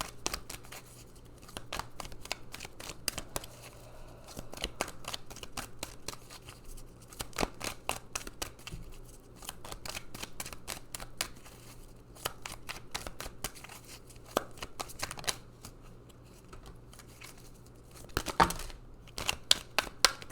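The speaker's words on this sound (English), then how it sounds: "All right, let's pull some more cards." Oracle cards being shuffled by hand, a steady run of crisp papery riffles and flicks close up with a low constant hum underneath, no talking.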